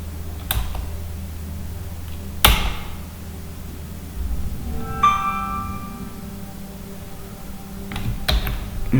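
A computer keyboard is typed on in a few scattered bursts of clicks and key taps against a steady low hum, with the loudest strikes near the start and end and a quieter stretch in between.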